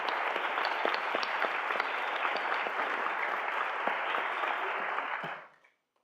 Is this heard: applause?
yes